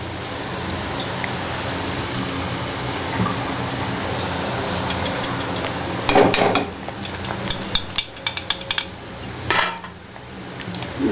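Boondi batter of gram flour frying in hot oil for kadalai mavu laddu, a steady background sizzle broken near the end by clinking and scraping of a metal ladle against the pan, with no talk.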